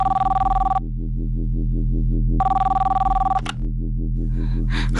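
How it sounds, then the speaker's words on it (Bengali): A home landline telephone rings in two loud electronic bursts separated by a short pause, over a low, steady rhythmic background score. "বাড়ির ল্যান্ডলাইনে কেউ একজন ফোন করে"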